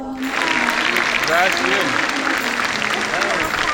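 Clapping from a large audience at a special convention held in Lima, a dense steady wash of applause with a voice speaking briefly over it.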